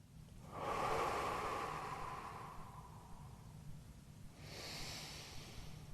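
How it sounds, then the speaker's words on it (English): Slow, controlled breathing during a held yoga stretch: one long, close airy exhale swelling and fading, then a pause and the start of another softer breath, with no speech. "I notice that I'm breathing really slow and controlled as I'm holding this"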